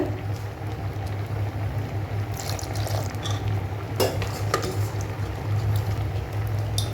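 Lentils with ground masala and half a cup of water are stirred in a pot, giving a steady wet scraping and slopping with a low hum underneath and occasional sharper clinks of the utensil.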